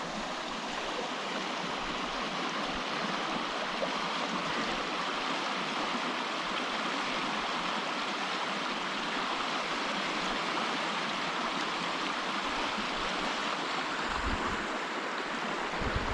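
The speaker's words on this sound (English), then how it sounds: "I'm just gonna sit here and film the river going by." The Hoh River rushes past in the Hoh Rain Forest of Olympic National Park, a steady, full broadband wash of flowing water close by that holds an even level throughout with no voices.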